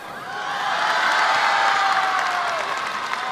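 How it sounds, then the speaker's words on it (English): The home crowd at a men's world curling championship match between China and Scotland breaks into a dense wash of applause and cheering that swells quickly and holds steady. "the home crowd love that result"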